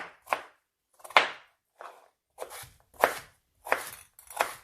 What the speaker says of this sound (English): I grab a knife and just chop them up smaller.